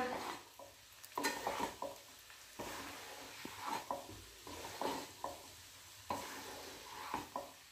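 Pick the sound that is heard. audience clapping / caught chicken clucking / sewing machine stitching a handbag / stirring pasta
stirring pasta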